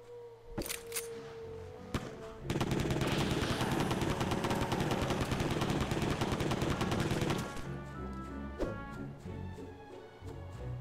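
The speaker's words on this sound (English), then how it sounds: "so this is a machine gun in here." Video game machine gun fire in a Switch game, a long rapid burst of crackling automatic shots lasting several seconds, loud and close, with a few single shots before and game sounds after.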